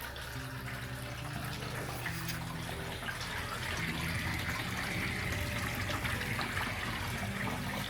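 Water runs steadily into a van's water tank, a continuous rushing flow that holds at an even level throughout, close and with no talk.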